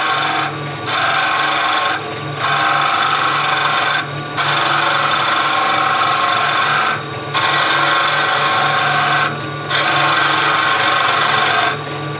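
A skew chisel cuts a spinning wood blank on a lathe in repeated passes, each a loud, steady rasping hiss lasting a couple of seconds, broken by short pauses over the motor's constant hum.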